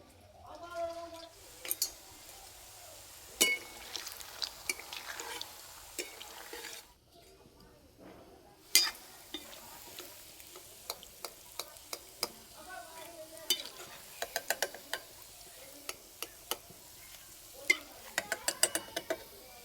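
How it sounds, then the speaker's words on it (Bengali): Carrot rasmalai pieces are fried in a pan, a soft background sizzle under repeated sharp scraping and clinking stirs of a spatula against metal, growing frequent toward the end, with a voice speaking now and then. "এগুলো একই রকম করে ভেজে নেব"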